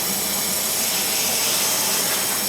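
Compressed air leaking from an air dryer fitting, a steady faint high hiss that runs unbroken throughout, with no talk.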